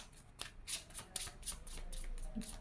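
Tarot cards are shuffled close up in a quiet room, with a quick series of soft riffling flicks and papery slaps.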